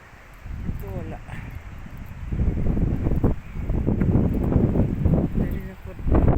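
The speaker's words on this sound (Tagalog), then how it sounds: "Kagandahan ang hangin." Wind gusts rush and buffet the microphone, growing louder after the first couple of seconds, with faint voices in the background.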